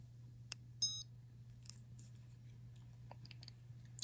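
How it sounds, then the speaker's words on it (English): A handheld red light therapy torch gives a short, faint electronic beep as it switches on in a quiet room, followed by a few soft clicks over a low steady hum. "When I turn this on, it will beep."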